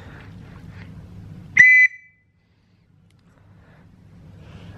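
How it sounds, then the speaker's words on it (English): An antique Acme Boy Scout whistle gives one short, shrill, steady blast, sharp against a quiet low background hum. "this is the Acme Boy Scout whistle"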